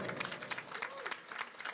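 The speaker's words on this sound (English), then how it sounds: "Give Richard a round of applause." Audience applause for Richard at a Ganesh Utsav gathering, a dense wash of clapping from many hands, steady and moderately loud with some voices underneath.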